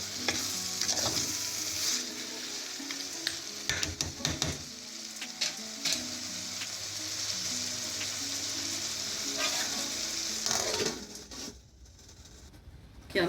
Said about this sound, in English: Just going to let this fry now for another 5 minutes or so.